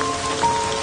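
Steady rain pours down in an outdoor drama scene, a dense continuous hiss of drops on surfaces with no voices, holding even and fairly loud for under a second.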